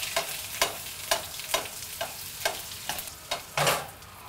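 Arctic char pan-frying in butter alongside squash, a steady close sizzle broken by repeated sharp stirring or scraping hits at roughly half-second intervals, with no voices.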